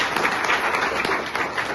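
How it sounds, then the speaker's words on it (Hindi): Applause from an audience at an Indian medical association event honouring Dhananjay Dubey, a dense, even burst of many hands clapping that carries on steadily at close range with no break. "तो धनंजय दुबे जी के लिए मैं चाहता हूं कि एक बार जोरदार ताली बजा के"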